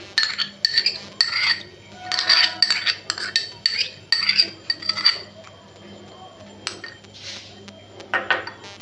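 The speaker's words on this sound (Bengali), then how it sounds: "এবার ফ্যাটানো টক দইটা দিয়ে দিচ্ছি।" Yogurt is spooned into chicken with ginger and garlic paste in a cooking pot, making clinking utensil-on-pot taps and scrapes in irregular bursts at close range. There is no talk.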